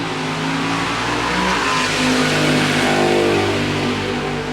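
A drag race car with a 355 Chevrolet motor and a Turbo 400 transmission, at a drag strip in Arkansas, roars loudly and steadily close by, its engine note shifting as it revs and accelerates.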